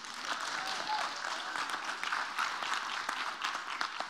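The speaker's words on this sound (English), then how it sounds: "You can give yourself a round of applause for that." An audience applauds at a motivational speaking event, with steady, distant-sounding clapping that stays at an even level throughout.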